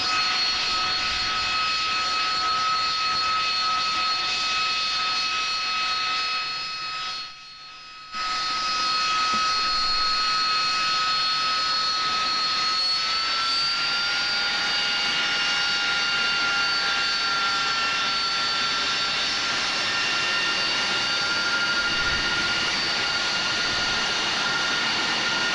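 An old aircraft passes overhead on a sunny afternoon, its engine a steady, fairly quiet droning hum with sustained tones that hold for the whole span, broken only by a brief dropout early on.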